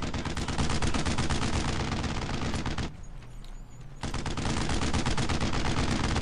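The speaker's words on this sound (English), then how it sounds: "Suppressing fire." Sustained suppressing gunfire in the WWII shooter Brothers in Arms: Road to Hill 30, dense overlapping bursts of rifle and machine-gun fire that drop away for about a second before resuming just as heavy.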